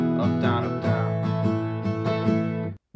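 Acoustic guitar strumming the chords of a song in a steady down-up pattern, sustained chords ringing continuously and close, stopping abruptly at the end.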